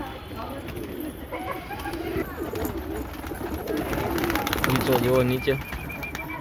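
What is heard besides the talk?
pigeons cooing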